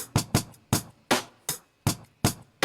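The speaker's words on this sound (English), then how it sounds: "So the first drum loop sounds like this." Drum loop playing alone in a Studio One mix session: sharp, punchy hits in a steady groove, about eight strong kicks and snares over under three seconds with quick decays and no talking.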